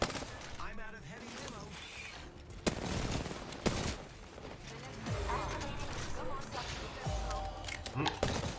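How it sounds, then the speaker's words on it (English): Prowler SMG fire in a video game, with bursts of rapid gunfire and mechanical clatter, some sharp impacts and shattering, and talk over the top. "The Prowler is an awesome SMG"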